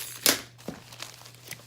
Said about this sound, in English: I take 1 bunch, I remove the plastic just on the bottom. I cut all the plastic.